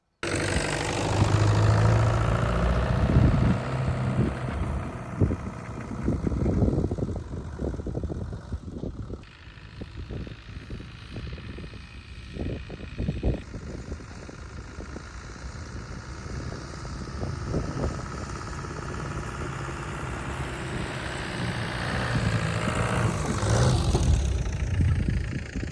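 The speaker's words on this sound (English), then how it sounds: "I think I might take it for one last test drive, but definitely a little bit slower this time" A rebuilt wrecked Aston supercar mounted on a 4x4 chassis runs steadily on a test drive, its mid-pitched engine droning continuously and swelling louder near the start and end, with no talking.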